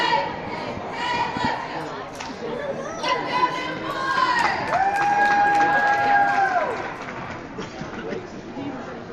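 Newport cheerleaders cheer from their section at a varsity girls basketball pink-out game, a crowd roar of chatter and shouts with shrill whistle-like tones rising midway in a noisy gym.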